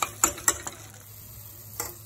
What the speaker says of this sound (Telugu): ఇప్పుడు దీన్ని కొంచెం ఫ్రై కానివ్వాలి